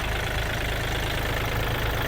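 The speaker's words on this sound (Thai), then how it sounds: "อ่าเครื่องสตาร์ทติดง่ายนะครับ เสียงเครื่องปกตินะครับ" A Kubota L4018SP tractor's diesel engine idles steadily nearby, a loud continuous low rumble with an even mechanical chug throughout.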